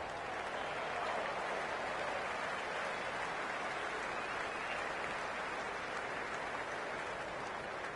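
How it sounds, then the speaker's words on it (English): Crowd noise in a cricket video game during a T20 World Championship semi-final between England and West Indies, a steady, dense wash of distant cheering and applause holding at an even level throughout. "The crowd is electric right now."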